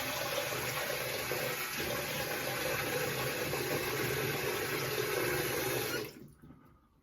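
Shaving lather being rinsed off under a running tap, a loud steady rush of water close by that cuts off abruptly near the end, leaving faint room noise, with no talking.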